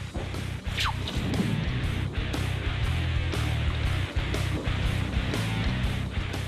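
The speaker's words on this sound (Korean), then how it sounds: "꺼낸 즉시 바로 물에 넣어 급속 냉각합니다" A steady roar of seething, bubbling water with repeated sharp hissing crackles and clanks, loud and continuous, as a brass dish heated to nearly 700°C is plunged and quenched.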